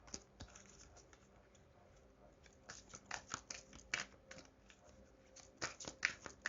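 A deck of cards shuffled by hand gives quiet, rapid riffling and flicking with irregular bursts of crisp snaps, fairly close and soft, and no talk.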